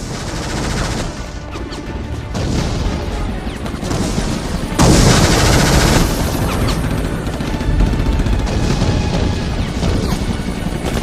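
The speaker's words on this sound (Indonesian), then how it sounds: "Baku tembak senjata terjadi." Battle reenactment gunfire for the Ambarawa fight, a dense barrage of overlapping shots and crashing booms that swells louder in the second half, loud and continuous with no talk.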